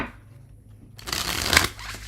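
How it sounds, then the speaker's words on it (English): A quick, close riffle of tarot cards being shuffled, starting after a brief quiet moment and building into a dense crisp flutter. "Shuffle, shuffle, shuffle."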